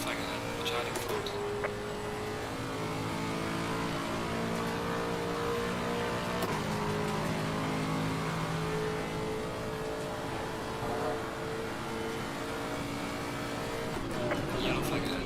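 GT3 race car engine in Assetto Corsa Competizione, an Aston or Bentley on track, droning and revving steadily with rising and falling gear tones throughout, while a voice talks over it.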